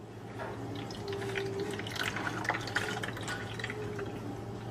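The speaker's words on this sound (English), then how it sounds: "pour in your drink" Orange juice pours into a slushie maker, a faint, steady liquid trickle with small drips over a low machine hum, no talking.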